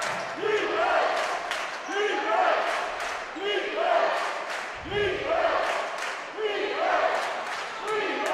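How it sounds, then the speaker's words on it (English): Basketball crowd at a boys' A Division championship game chanting a rhythmic defense chant in a loud, echoing gym, with repeated call-and-response swells and sharp shoe squeaks and thuds underneath. "The Palmyra crowd has been more vocal so far in the first half, and their defense chant rings out now."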